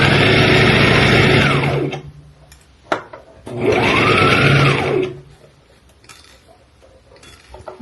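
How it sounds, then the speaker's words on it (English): A sewing machine stitches the seam of an abaya in two loud, steady runs of rapid mechanical whirring, each lasting about two seconds, separated by a brief quiet pause with a small click, then near silence. "Sewing at the seam."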